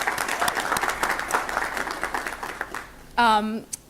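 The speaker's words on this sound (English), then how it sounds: "So I would like another round of applause for them" Dense applause from a crowd at a board of education meeting fills most of the clip, with scattered claps, followed briefly by a loud rising cheer or whoop near the end.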